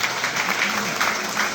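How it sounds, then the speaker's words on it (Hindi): An audience at a Hindi-language talk breaks into a brief burst of loud clapping, a dense wash of applause that fills the whole moment. "एक बार जोरदार ताली इसके लिए।"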